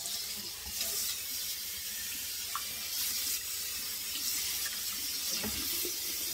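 Cold water runs steadily from a sink tap to rinse turnip and mustard greens, a continuous close hiss and splash with no pauses.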